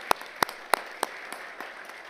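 A few audience members at a university design event clap: four sharp, evenly spaced claps up front, then a handful of fainter claps trailing off into quiet.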